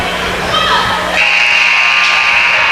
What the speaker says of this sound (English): a pretty good look on a 3 to beat the first half buzzer